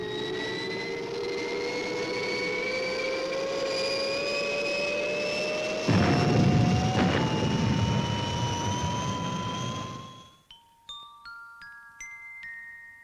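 Spacecraft XL-1 lifting off at full power: a loud, continuous jet-like roar with steadily rising whine tones and a surge in rumble midway, then cutting off abruptly near the end, leaving faint scattered tones.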